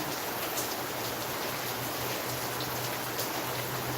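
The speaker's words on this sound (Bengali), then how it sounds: "নতুন বৃষ্টি আছে আল্লাহ রহমতের বৃষ্টি আমাদের মাঝে আছেন" Steady, dense hiss of rain falling continuously, with a low constant hum underneath and no voices.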